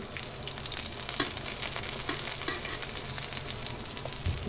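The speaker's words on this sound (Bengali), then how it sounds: "সরিষার তেলে ঘ্রানটা বেরোনোর সাথে সাথে পেঁয়াজটা দিয়ে দিতে হবে" Onion hitting hot mustard oil in a pan, sizzling and frying steadily and fairly close, with light stirring clinks scattered through.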